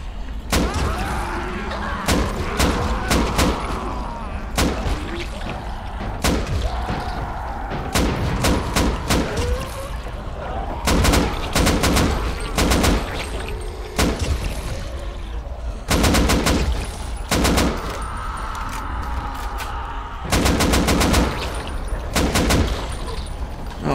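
Gunfire in the video game Dying Light, loud and close, with repeated bursts of rapid shots and single heavy reports spread across the whole stretch over a steady low background.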